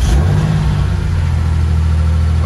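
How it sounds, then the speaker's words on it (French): A Porsche 993 RSR engine, run with no tuning, starts and idles roughly and too high. A loud, close, low rumble runs steadily throughout with no talk. "Là, le ralenti risque d'être un peu chaotique parce que j'ai aucun réglage."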